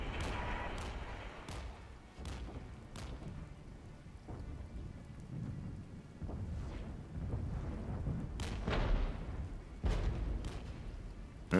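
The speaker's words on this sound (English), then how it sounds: "That's just some bombardment, that's not so bad" Artillery bombardment in the strategy video game Regiments, a continuous rumbling barrage of deep booms layered with sharp cracking blasts at irregular intervals over a dense, rain-like wash of noise.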